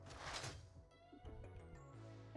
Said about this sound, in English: I just hear him meowing.